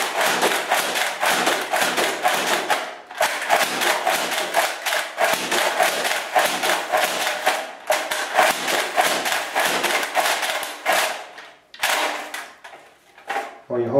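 NERF Raider CS-35 dart blaster fired repeatedly with the trigger held, rapid clattering thumps in fast runs with brief pauses, close and loud, while a person talks over it.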